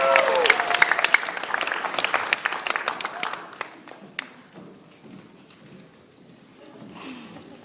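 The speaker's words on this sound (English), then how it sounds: "Let's give them one more hand of applause." An audience at a Hmong acting club contest claps loudly at first, the applause thinning and fading out over several seconds into quiet room tone.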